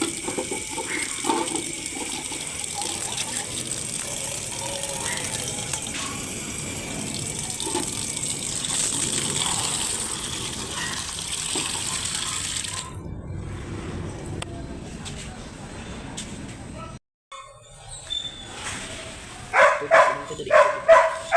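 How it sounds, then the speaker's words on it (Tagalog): Water is poured into a dish of chicken liver for a rescue cat, a steady splashing run that breaks off near the end into quieter clinks and short bursts. "lagay natin ng tubig."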